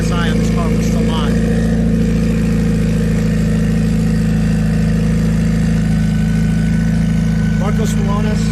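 Loud, steady car engine drone at a racetrack dominating throughout, with a voice talking faintly underneath.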